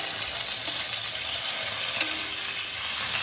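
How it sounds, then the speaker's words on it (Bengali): A fish head fries in hot oil, giving a loud, constant crackling sizzle that stays even throughout, with no voices. "এবার মাছের মাথাটা ভেজে নেব।"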